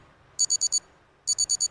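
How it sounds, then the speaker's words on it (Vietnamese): A Japanese alarm clock rings in two short bursts of four rapid, high-pitched electronic beeps each, loud and close, separated by a brief pause with quiet room noise underneath. "bật cái này ra là đúng 8 giờ nó sẽ báo thức"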